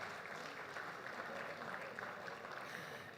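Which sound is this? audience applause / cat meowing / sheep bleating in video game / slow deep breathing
audience applause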